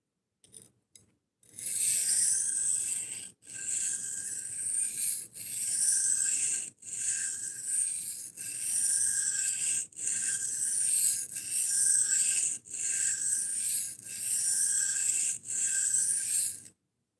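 A knife edge is drawn across a sharpening stone in about eight long, steady strokes, each a loud close rasp with short pauses between, and no voices.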